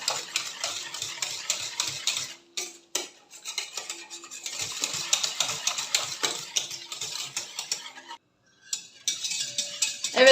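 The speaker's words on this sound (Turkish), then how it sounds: "Unumuz, nişastamız hemen böyle pürüzsüz hale gelinceye kadar karıştırıyorum." A flour and starch mixture for a custard cream is stirred briskly in a bowl until smooth, making rapid, rhythmic scraping clicks close by with a couple of short pauses.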